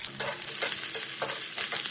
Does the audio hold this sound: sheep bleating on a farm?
no